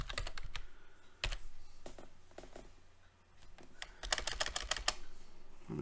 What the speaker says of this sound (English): I'm typing things out of order.